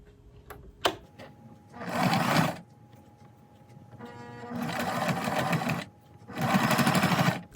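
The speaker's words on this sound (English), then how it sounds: "So let's see if we can sew this together." A home sewing machine stitches fabric for homemade foot pads in three loud bursts of rapid whirring, separated by pauses and light handling noises.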